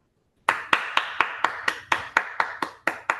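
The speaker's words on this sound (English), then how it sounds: "Clap it up." About a dozen sharp, evenly spaced hand claps from a single person on a podcast, close and clear against silence.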